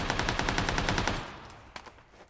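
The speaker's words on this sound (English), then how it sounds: "Did he shoot at you? Yeah, he did." Rapid automatic gunfire from an enemy player in the battle-royale game PUBG, a fast burst of about a dozen evenly spaced loud shots, then a few scattered fainter reports as it trails off.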